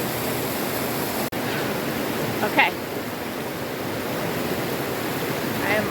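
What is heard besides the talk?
Burney Falls waterfall in Northern California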